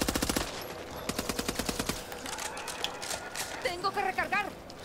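Machine gun bursts fire in the video game Back 4 Blood as rapid evenly spaced shots, first a short burst, then a longer run, followed by a voice speaking over scattered game noise.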